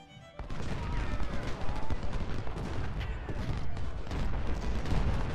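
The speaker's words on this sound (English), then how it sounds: "The cannons are doing just fine" Cannons and musket volleys fire in Ultimate General: Civil War during the Second Battle of Bull Run, a dense, continuous rumble of booms and crackling shots at a steady level.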